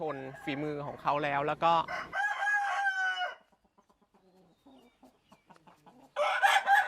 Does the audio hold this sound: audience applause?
no